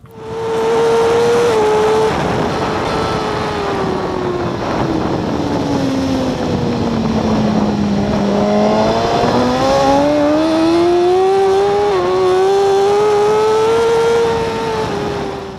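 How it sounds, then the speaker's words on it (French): Racing motorcycle at full throttle on the Portimão circuit, engine pitch falling, then climbing again through a gear change, loud and continuous with wind rush over the microphone. "on accélère, on passe la 3 et on est en glisse à plus de 200 km/h dans une cassure"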